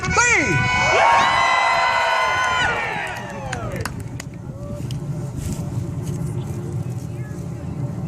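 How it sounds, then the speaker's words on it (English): A large outdoor crowd of spectators, children among them, at a Civil War reenactment yells and cheers loudly together for about three seconds, then the roar fades into a steady background hubbub of distant voices and ambient noise. "On the count of three, let's give them one more yell."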